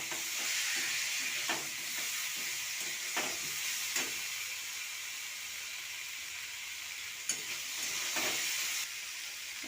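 Fried soybean chunks are stirred into potatoes and pointed gourd in a pan, with a steady hiss of frying and occasional scraping taps from a spatula, close by.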